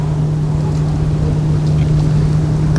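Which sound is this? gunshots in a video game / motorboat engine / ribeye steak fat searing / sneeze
motorboat engine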